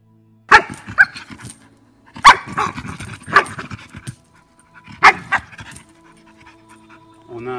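An aggressive Malinois barks in sharp, loud bursts, four or five separate outbursts with heavy panting between them, close by during an aggression test.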